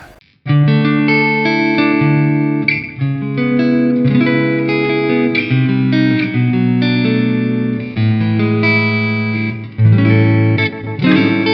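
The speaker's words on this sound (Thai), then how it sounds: "เดี๋ยวจะใส่รีเวิร์บดีเลย์ขึ้นนิดนึงนะครับ เดี๋ยวเริ่มที่ Pick Up Single Coil นะครับ" An electric guitar on its single-coil pickup, run through reverb and delay, plays sustained chords and melodic lines, loud and close, with notes ringing and blending into one another and no speech.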